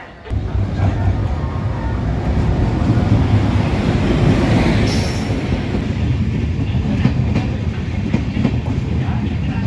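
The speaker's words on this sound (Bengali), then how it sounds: "5 মিনিট লেটে কিন্তু ট্রেন এখানে ঢুকছে" The Kanchankanya Express, running on new LHB coaches, pulls into Hasimara station platform with a loud steady rumble of wheels and rhythmic clickety-clack, close by and continuous.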